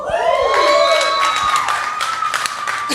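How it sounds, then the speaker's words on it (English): A conference audience at a leadership event breaks into applause, with clapping and a few cheers over a sustained ringing tone as a speaker is welcomed to the stage. "Let's give Josh a round of applause"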